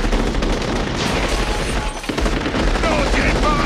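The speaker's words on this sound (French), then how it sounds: "Cessez le feu, mais arrêtez, voyons!" Rapid machine gun fire rattles loud and continuous in dense bursts, with a voice shouting over the barrage.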